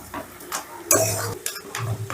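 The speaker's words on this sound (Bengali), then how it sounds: "এবার টমেটোটাও একটু নাড়াচাড়া করে মিশিয়ে দেব।" Tomatoes stirred into a pan with eggplant and fish head: close, uneven bursts of scraping and sizzling as the spoon moves, with brief clatters between strokes.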